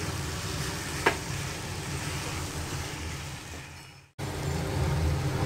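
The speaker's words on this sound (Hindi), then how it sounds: "अभी फ्लेम मीडियम पे कर लेंगे और उसको अच्छी तरह से भूनते जाएंगे हिला हिला कर" Chopped celery is stir-fried in oil over a medium flame, a steady close sizzle with faint stirring that cuts out briefly, then resumes.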